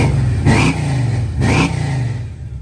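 Supercharged, stroked 468 big-block V8 in a clean 1973 Chevy Impala revving hard twice, each throttle blip rising and falling back to a loud, lumpy idle, close by with no talk.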